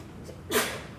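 A single sharp sneeze bursts out nearby in an otherwise quiet room, brief and breathy, with a faint intake of breath just before it.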